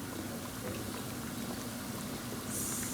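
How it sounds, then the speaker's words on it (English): Eggs boil in a pot with a dense, steady bubbling hiss, continuous and fairly close throughout. "I'm also boiling eggs"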